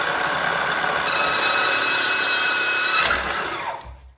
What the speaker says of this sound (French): je vais me mettre à 0 degré, typiquement pour faire une découpe droite, avec un morceau de chute qui ne sert à rien pour l'instant